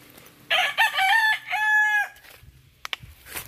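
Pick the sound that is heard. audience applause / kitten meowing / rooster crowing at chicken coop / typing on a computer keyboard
rooster crowing at chicken coop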